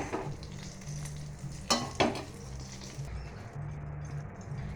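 A pan of food, with potatoes nearby, simmering and frying on the stove, giving a low steady bubbling sizzle with a couple of sharp clattering stirs in the middle; quiet and close, with no talking.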